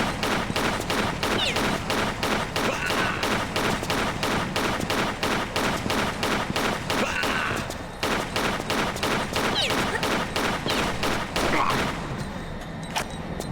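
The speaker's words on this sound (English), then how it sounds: "Oh my god, they're shooting at me." Enemy gunfire in a Tomb Raider level set around London's Tower Bridge, rapid and loud, with steady evenly spaced shots crackling on and on with one short break near the middle.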